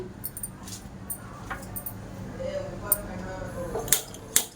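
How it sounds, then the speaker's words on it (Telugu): A lid is set on a cooking pot of mutton head curry, giving two sharp metallic clinks near the end over quiet kitchen background noise. "ఇప్పుడు లిడ్ పెట్టేసి బాయిల్ చేద్దాము."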